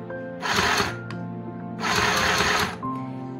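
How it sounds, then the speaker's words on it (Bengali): A mini sewing machine driven by a foot pedal stitches in two close, steady bursts of rapid mechanical whirring, each lasting about half a second to a second, with a quiet hum in the pauses. "দেখো আমি যদি এটাকে প্রেস করি সেলাই হবে, আবার এটাকে ছেড়ে দিলে সেলাই বন্ধ হয়ে যাবে।"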